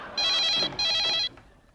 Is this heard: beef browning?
no